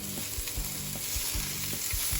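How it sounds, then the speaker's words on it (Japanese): Chicken and onions fry together in an oiled frying pan, a dense constant sizzle broken by regular thumping knocks from stirring, close up with no talk. "このフライパンの余白で玉ねぎ適量炒めていきます"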